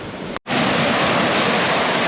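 Steady broadband rush of sea swell and water churning against the hull of a sailing boat under way, continuous and fairly loud, with a brief dropout near the start.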